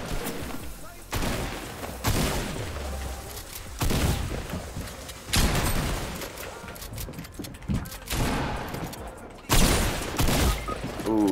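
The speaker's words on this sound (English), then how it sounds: "Keep shooting that guy." Video game gunfire in repeated loud bursts of rapid shots, separated by short pauses, with players talking over the action.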